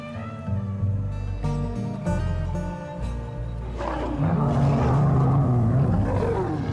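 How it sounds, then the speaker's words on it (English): A lion roars in the African wilderness at night: a loud, deep, rumbling call that swells and holds, then turns rougher and more guttural toward the end. "And the roar of the lion shatters the night."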